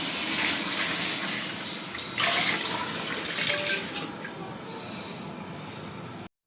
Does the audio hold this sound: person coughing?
no